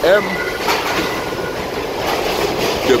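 A New York City subway D train running, loud close rumble and rattle of wheels on track with faint squeals, filling the whole stretch.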